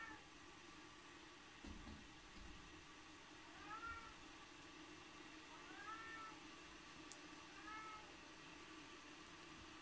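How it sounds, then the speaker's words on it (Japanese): Pet cats in a separate cat room deep inside a share house meow three times, rising and falling, spaced a couple of seconds apart, faint and distant over a steady background hiss. "そのにゃんこが今騒いでるのよ。"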